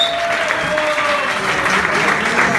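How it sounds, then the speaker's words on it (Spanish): Audience at a lively Spanish comedy stage show clapping together, a dense, steady burst of applause that fills the whole short stretch at close, loud level. "¡Un aplauso!"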